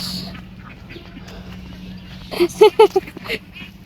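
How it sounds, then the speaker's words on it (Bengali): A few loud, nasal quacks from a flock of ducks in a quick cluster close by, following a stretch of quiet outdoor background with faint voices. "অনেকগুলো হাঁস"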